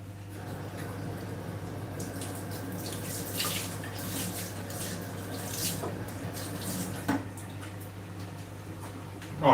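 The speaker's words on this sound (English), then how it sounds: "I left my bath water running" Bath water running from a tap into a tub, a continuous hissing splash at moderate level with a steady low hum beneath and a couple of brief knocks near the end.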